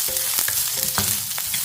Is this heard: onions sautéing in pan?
yes